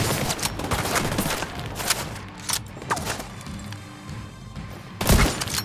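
Gunfire in the video game The Division 2: repeated broadband shot bursts and rattling volleys over a dense battle din, closing with a loud, heavy blast.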